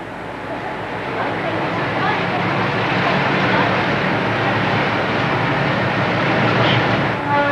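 Trains roll into Puente Ruinas station below Machu Picchu, a steady, loud rumbling and clattering that holds for several seconds, with a narrating voice over it.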